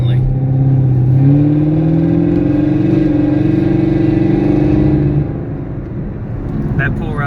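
A 2016-2020 Camaro SS V8 running on E85 fuel, with no 4-cylinder mode, pulls hard under acceleration. The engine drone rises steadily, then eases off, heard from inside the car.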